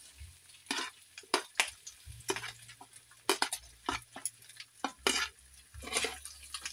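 White onions go into a pan of frying pork sisig. A utensil scrapes and stirs in uneven bursts over a low, quiet sizzle.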